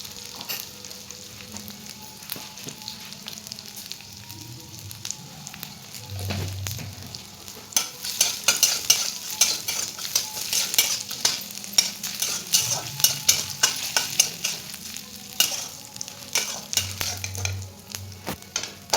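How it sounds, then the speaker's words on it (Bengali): Dried fish frying in hot mustard oil with salt and turmeric in a wok: continuous sizzling with frequent scraping and clinking as a utensil stirs the pieces, getting busier and louder partway through. "তেলটা গরম হয়ে গেলে নুন হলুদ দিয়ে মাছটাকে ভেজে নেব।"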